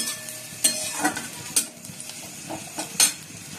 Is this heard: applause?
no